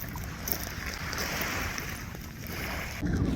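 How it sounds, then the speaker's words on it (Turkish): The Bostanlı passenger ferry approaches a pier in Izmir, heard as a broad, steady rumble of engine and churning water mixed with wind and waves, with no talk over it. "Bakar mısınız şimdi bostanlı vapurumuz geliyor"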